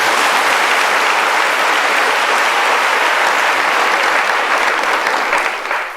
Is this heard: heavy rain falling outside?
no